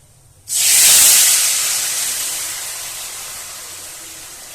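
Whole spices for a tempering hit hot oil in a traditional rural Bengali dish, bursting into a loud, sudden sizzling hiss that slowly fades yet keeps crackling steadily.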